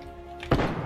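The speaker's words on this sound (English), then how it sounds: "Throwing thermite." A thermite grenade thrown in Apex Legends lands with a single dull thud, short and fairly close, over low game ambience.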